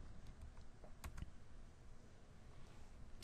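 Soft keyboard taps as a value is entered on a computer keyboard, a few quiet scattered clicks over faint room noise.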